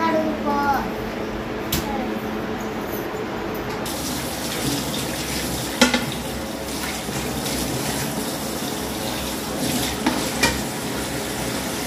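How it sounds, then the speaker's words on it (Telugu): Dishes being washed at a kitchen sink under running tap water: a steady splashing stream with clinks and knocks of utensils, and a brief voice near the start. "గిన్నెలు కడుగుకో."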